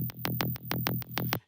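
An unprocessed psytrance bass sample from a Cashmere sample pack pulses in a fast, even pattern of fat, punchy notes, heard alone and cutting off abruptly at the end.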